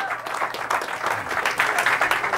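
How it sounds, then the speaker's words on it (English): Audience applause at a talk on Moorish heritage in the Americas, a dense wash of many hands clapping steadily for a couple of seconds, fairly close and loud, with a few voices faintly mixed in. "Give yourselves a round of applause."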